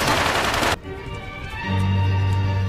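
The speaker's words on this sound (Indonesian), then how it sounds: "tiba-tiba Mak terkena tembakan di kepalanya." Gunfire in a gangster action film: a dense, loud burst of rapid shots cuts off abruptly, followed by ringing tones and a low rumbling hum.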